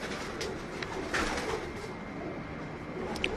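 Pigeons cooing softly amid a steady murmur of background noise, low throaty calls repeating now and then, with faint chirps from other birds.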